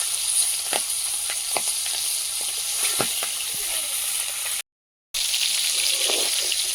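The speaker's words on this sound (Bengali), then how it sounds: "মাছগুলো ভাজা হয়ে গেছে, তুলে নেব" Fish frying in hot oil makes a continuous sizzle with scattered sharp pops and crackles up close. The sound drops out briefly before resuming.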